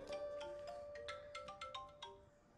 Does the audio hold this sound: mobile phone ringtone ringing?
yes